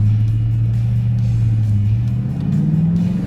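A manual car pulling away in first gear, its engine droning loudly and steadily, pitch climbing gradually as revs build toward the end.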